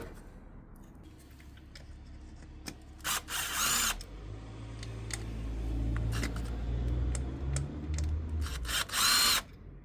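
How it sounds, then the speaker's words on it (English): A power tool undoes the fuel filter housing bolts on a Ford C-Max 1.6 TDCi diesel. There are several short whirring bursts and a few clicks, then a longer run of the tool, all close up with no talking. "Undo the housing bolts here."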